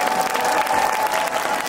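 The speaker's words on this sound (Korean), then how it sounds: "여러분들 다시 한번 박수 좀 부탁드릴게요." A full home crowd at a Hanwha Eagles baseball game in Daejeon applauds Lim Jong-chan after his walk-off hit, a broad, steady wash of clapping and crowd noise over a faint sustained tone.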